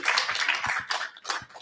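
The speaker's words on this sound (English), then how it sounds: "let's also give Sam and Mike a round of applause for having this bookstore." A short burst of applause from a small crowd in an independent bookstore, quick clapping that rises and fades within a couple of seconds.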